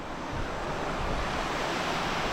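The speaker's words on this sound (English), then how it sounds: "Quite impressive actually, quite a bit of water coming down it." A waterfall in full flow on a Lake District mountain, Grisedale Pike, gives a constant dense roar of falling water, close and loud, with no voices.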